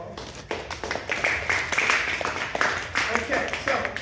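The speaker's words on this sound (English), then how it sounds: "Let's give a round of applause." A classroom audience claps through a round of applause, a dense, steady patter of many hands lasting several seconds at moderate loudness with no pause.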